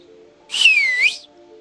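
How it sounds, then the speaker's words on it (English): A game character in the zombie survival game HumanitZ whistles a single sustained, clear tone lasting about three-quarters of a second, dipping slightly in pitch before rising at the end, over a faint steady background hum. "Why did it ask me to whistle?"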